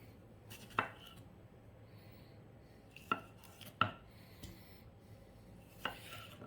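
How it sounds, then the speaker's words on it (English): Tomatoes being roughly chopped with a dull knife on a board for gazpacho, four sharp isolated thuds spaced a second or more apart, close and fairly crisp against a quiet room. "Next we'll do the tomatoes. These again only need a rough chop."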